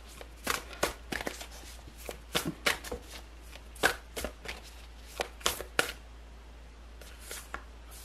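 Tarot cards being shuffled up close produce a quiet run of crisp riffling snaps and flutters in irregular bursts over a low steady hum, with no one speaking.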